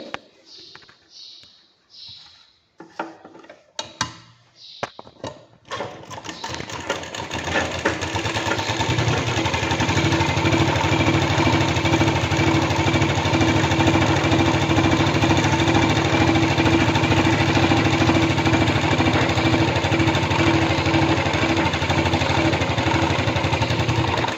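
A sewing machine stitches around the edges of a blouse, starting with a few short bursts and clicks, then settling into a steady, loud mechanical whir that runs on for many seconds.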